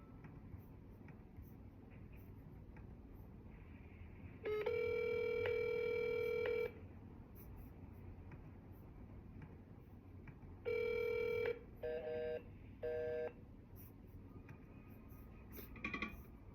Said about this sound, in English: let me dial this one